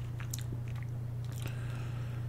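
Close crunchy bites and chewing of garlic-coated plantain chips, a few crisp snaps over a steady low hum, brief and intimate with no talking.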